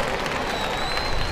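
An audience at a church association festival applauds steadily, a brief, even wash of crowd clapping with no pauses.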